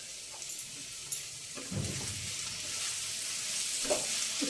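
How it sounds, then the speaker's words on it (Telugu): Broad beans frying in a pan, a continuous close sizzle with a few stirring scrapes and clinks breaking through now and then. "ఇప్పుడు చిక్కుడుకాయ ఫ్రై చేస్తున్నా"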